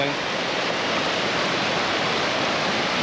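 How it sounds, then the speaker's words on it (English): Water splashes and rushes over foreground rocks at Jagala waterfall in Estonia in winter, a steady, dense, close roar that holds without pause throughout. "we've got some foreground rocks here with the water splashing over the top"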